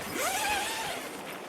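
A full-length zipper on the inner doorway of an EV1 tent is drawn open in one continuous pull, a close, steady zipping rasp lasting just over a second with no talk.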